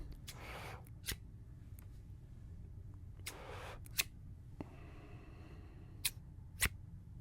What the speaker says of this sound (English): These are not my scissors. I wish I could keep these because I really like the sound.